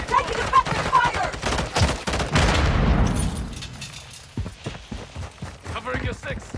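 Rapid bursts of gunfire in a Call of Duty Modern Warfare 3 multiplayer match, loud and close, mixed with chaotic battle noise and shouted callouts from a player.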